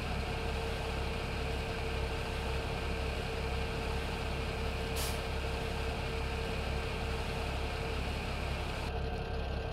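A truck in Farming Simulator 17 idles with a steady engine drone, and a short sharp air-brake hiss bursts out around five seconds, with no talk over it.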